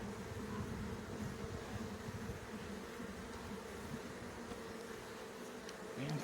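Honeybees buzz steadily and densely around an open hive during an inspection, a continuous close insect drone with no talking.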